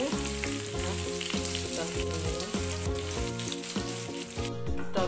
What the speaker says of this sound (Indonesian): kita goreng bawangnya dulu sama terasi.